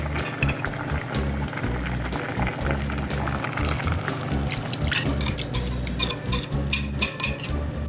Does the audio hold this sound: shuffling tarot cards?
no